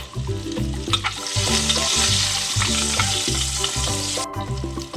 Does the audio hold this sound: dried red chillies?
yes